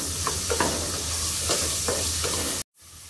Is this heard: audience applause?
no